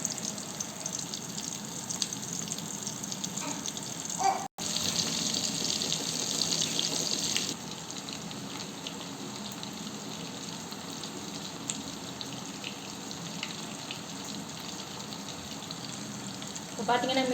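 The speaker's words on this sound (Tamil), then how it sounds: "இப்போ பார்த்தீங்கன்னா மீன் நல்லா வெந்து வந்துக்கிட்டு இருக்கு" Fish frying in hot oil in a kadai, a steady broadband sizzle running throughout at close range, louder for a few seconds early on and then settling to an even crackle.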